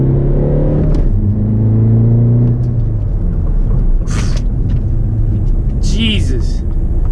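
A VW TDI diesel car launching hard from a standstill with traction control off, engine revving loudly and wheels spinning. The roar climbs through gear changes at close range with shouting voices over it.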